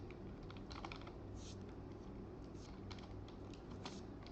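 Fingers tap out a short burst of keystrokes on a computer keyboard, quiet and close, with irregular clicks and a firmer press near the end.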